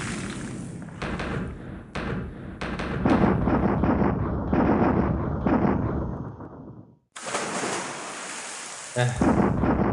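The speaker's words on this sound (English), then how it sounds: "So again, the bomb hits the armor deck, but cannot penetrate." Heavy booming impacts of dive bombers' bombs striking warships in the naval strategy game War in the Pacific, a series of loud rumbling blasts with a brief silence before a final sharp burst.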